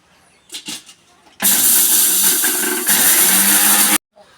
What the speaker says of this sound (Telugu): ఇది కూడా మిక్సీ పట్టేసుకుందాము మెత్తగానే